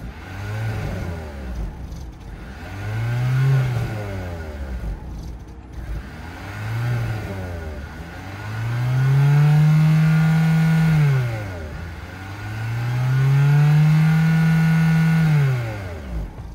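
A 2023 Kia Sportage plug-in hybrid's 1.6-liter turbo engine is revved from outside at idle, with five rising and falling revs, the last two held longer, each swelling to a strong hum before dropping back.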